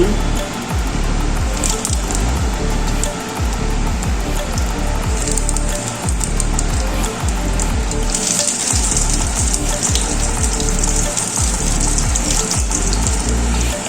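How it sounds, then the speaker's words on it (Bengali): Hilsa paturi parcels wrapped in pumpkin leaves frying in hot mustard oil in a pan, a loud continuous sizzle and crackle that holds steady throughout with no voices. "তেলটা গরম হয়ে গেছে এবার পাতুরিগুলো দিয়ে দিচ্ছি"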